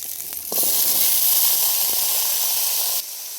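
Potatoes dropped into hot spiced oil in a pan, erupting into a loud, steady sizzle that holds for a few seconds, then cuts off abruptly.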